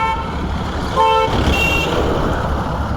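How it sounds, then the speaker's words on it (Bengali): A scooter horn toots twice in quick succession amid steady road traffic rumble, fairly close. "হর্ন মেরে দে একবার"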